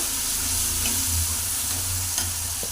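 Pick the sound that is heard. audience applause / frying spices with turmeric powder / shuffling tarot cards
frying spices with turmeric powder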